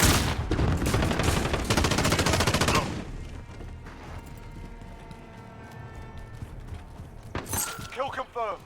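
Rapid automatic gunfire from an online shooter video game rattles loudly for about three seconds, then fades to quieter game effects. A short burst of shots follows near the end.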